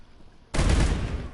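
Gunfire erupts in the sci-fi shooter Mass Effect Legendary Edition after a quiet moment, a sudden loud burst of rapid shots that keeps rattling to the end.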